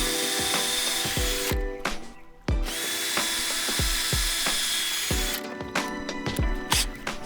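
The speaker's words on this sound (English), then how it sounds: "Then you just pre-drill." Cordless power drill pre-drilling screw holes in deck boards over a joist, several short loud whirring bursts with pauses between them, close by and alone.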